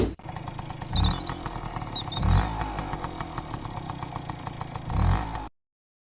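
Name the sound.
motorcycle engine revving and riding off, animation sound effect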